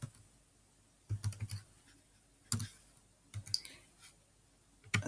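Computer keyboard typing in short quiet bursts of clicky keystrokes, separated by pauses, close and alone.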